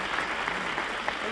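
A television game show studio audience applauds steadily, with dense clapping that fills the whole moment and doesn't stop.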